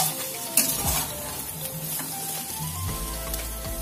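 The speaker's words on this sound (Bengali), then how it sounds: "এবারে সমস্ত মশলাগুলো 2 মিনিটের জন্য একটু কষিয়ে নেব।" Spices sautéing with chopped radish and cauliflower stems in a pan, a continuous moderate sizzle broken by spatula scrapes and stirring knocks, no talking.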